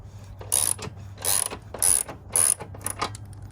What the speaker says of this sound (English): get your 15 and proceed to take these right here off, loosen them up